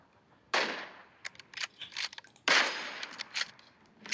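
Gunfire from PUBG Mobile gameplay comes as two sharp loud bursts followed by scattered quicker pops and clicks, fairly close with quiet gaps between.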